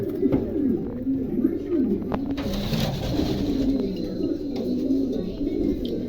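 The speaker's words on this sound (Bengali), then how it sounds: "এই যে কবুতর" Several pigeons for sale at a wholesale pigeon market give a continuous chorus of low, throaty coos close at hand, with occasional chirps and a few faint clicks and rustles behind them.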